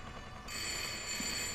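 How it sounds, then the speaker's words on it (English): Telephone ringing in the horror video game Layers of Fear, a sustained electronic ring starting abruptly and holding steady, faint and alone with no speech. "Oh, there's a phone ringing?"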